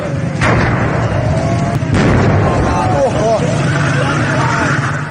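At a blazing LPG workshop in Shiraz, two sharp gas cylinder blasts burst through a dense, loud roar of fire and commotion, with distant shouting voices throughout.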